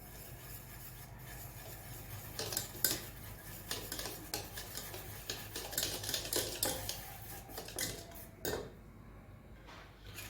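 Close by, a spoon scrapes and taps against a bowl in an irregular rhythm while semolina (rava) cake batter with vanilla essence is stirred.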